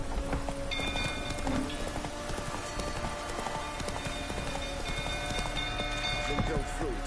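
Horse hooves clip-clop at a galloping run in The Witcher 3, a steady rapid patter mixed with game ambience, rain-like hiss and a voice talking over it.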